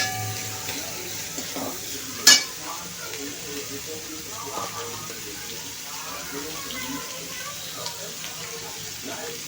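Spring onion greens stir-fry over a high flame for street-style chicken noodles, with a steady close sizzle, a sharp metallic clang early on and scattered stirring scrapes throughout.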